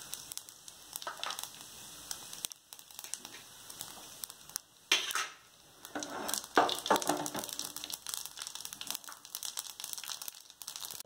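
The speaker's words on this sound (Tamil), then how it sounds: "நான் இப்போ வந்து கடுகு, ஜீரகம், மிளகாய், காஞ்ச மிளகாய் இதை போட்டுறேன்." Mustard seeds, cumin and dried red chillies hit hot oil in a pan, giving a steady close crackle and sizzle with sharper popping bursts around the middle.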